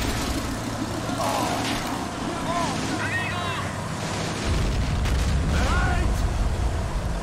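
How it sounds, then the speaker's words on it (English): Friendly mortars firing on a city in a war video game: a rumbling, windy din with faint whistling shell sounds that swells into a heavier, sustained low roar partway through. "Friendly mortars firing on the city."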